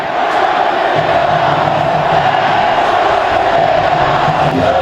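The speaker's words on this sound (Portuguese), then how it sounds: "Acaba o jogo, a torcida do São Paulo grita." São Paulo football fans in a stadium roaring and shouting together at the end of a match, a dense, steady crowd noise from a distance.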